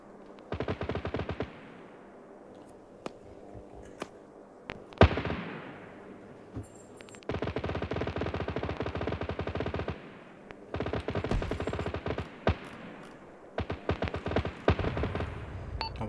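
Automatic gun emplacement in the Arma 3 military game hammering out several long bursts of rapid fire, with single sharper shots between them and a heavy report near the middle. The gunfire sounds close and loud, and no speech is heard.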